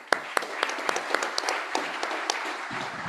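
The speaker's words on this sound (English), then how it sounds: "We receive him with a strong applause." Audience applause for a speaker taking the stage at a hackathon session, dense steady clapping from a crowd with a few sharper near claps, no talk over it.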